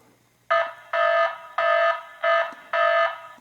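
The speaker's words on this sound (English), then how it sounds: "We can also trigger a siren alarm, which will ring on the camera to fend off any potential intruders." Siren alarm from an IoTeX Ucam home security camera sounding in five loud, evenly spaced electronic bursts, each about half a second long, with no talk.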